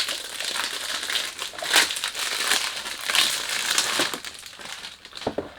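Close, continuous crinkling and rustling of a large cardboard perfume box and packaging, with scattered sharper crackles as material is handled, fairly quiet and without speech.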